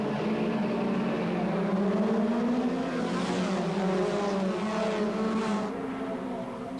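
A race car pulls away from a starting grid with a steady, loud engine drone that rises in pitch as it gains speed, accompanied by other engines, with no voices.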